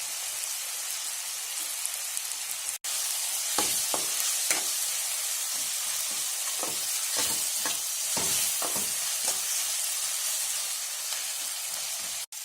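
Chicken pieces with turmeric frying in a pan for a village-style chicken masala curry, a steady close sizzle broken by repeated stirring scrapes and clicks, no talk.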